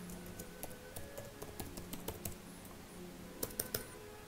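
Fast keystrokes on a computer keyboard as an email address is entered into a login form, a steady run of close, light clicks with a few sharper taps near the end.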